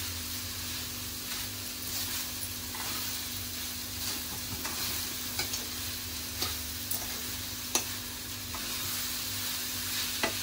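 Grated coconut and sugar are stirred in a pan for coconut barfi, making a steady loud sizzle with intermittent scraping strokes and a few sharp clicks of the utensil against the pan.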